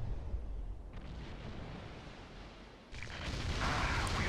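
Naval gunfire from a warship in the Steel Ocean naval combat game, fired while the ship slows to a crawl: a steady low rumble gives way to a loud, bright broadband blast that swells and holds near the end.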